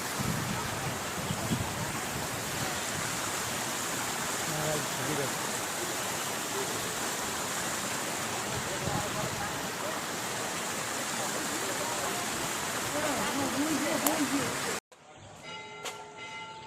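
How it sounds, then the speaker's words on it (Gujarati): Water rushes strongly past a hilltop temple, a steady, loud, broadband roar that stays constant and close, with bells faintly audible and a person talking over it. "અહીંયા પાણી જોરદાર આવી રહ્યું છે"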